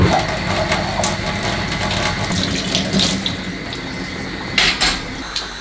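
A tap runs steadily while canning jars are washed under it, water splashing and gurgling close by, with occasional clinks of glass.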